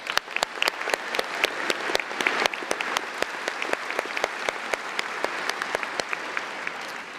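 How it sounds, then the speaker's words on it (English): Sustained applause from an audience at a high school commencement ceremony, steady clapping at close range that holds evenly throughout without voices over it. "Please join me in giving them a round of applause."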